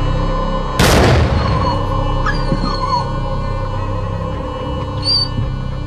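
A dog lets out one sudden, loud yelp, followed by faint whimpering and low background noise.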